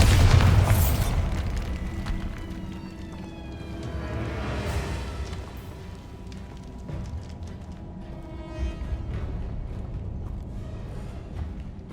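Hogwarts Legacy's Bombarda spell detonates with a loud, sharp boom at the very start, then a long rumbling, ringing decay with shimmering magical tones trails off over several seconds.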